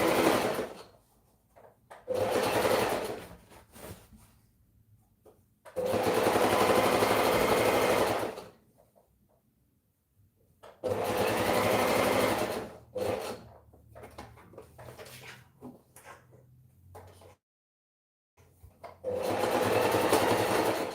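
A sewing machine top-stitches a fabric hem in several bursts of steady whirring, each a few seconds long and separated by quiet pauses, close and fairly loud, with no talking.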